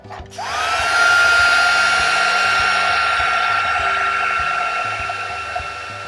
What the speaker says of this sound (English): now we're just going to let the heat embosser again do its job